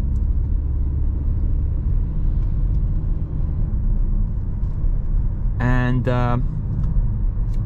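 A 2023 Renault Captur E-Tech hybrid driving and slowing, steady low road and drivetrain rumble heard from inside the cabin throughout, with someone speaking briefly over it and a short chime near the end.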